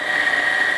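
Coffee grinder grinding beans for a La Marzocco Linea Mini espresso machine, a steady loud high-pitched motor whine, close up and continuous, with no talk.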